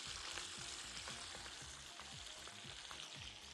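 Steak sears in a pan with a cube of butter, giving a continuous loud crackling sizzle with dense spitting throughout, close and steady, with no talk.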